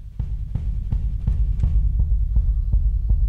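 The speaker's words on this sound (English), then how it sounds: "So there's a really low kick." A very low, deep kick drum in a mixing session thumps in a steady, even pulse, about three beats per second, over a low hum, loud and alone with no voices.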